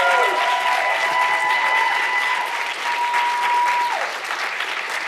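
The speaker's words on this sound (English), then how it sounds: "Let's give these five awesome speakers one big last round of applause." Sustained audience applause after a series of five short talks at a university lecture event, a dense steady wash of clapping lasting several seconds with a faint tone beneath it.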